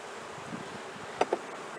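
Honeybees hum steadily around an open hive during a comb honey harvest, a soft, close drone with two brief louder buzzes as bees pass near, and no talking.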